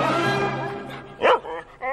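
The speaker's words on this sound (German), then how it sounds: "Das ist Schnuffel, mein Hund" A dog yips and barks in a few short, excited bursts, close by, amid other voices and bright whimpering tones in an old film scene.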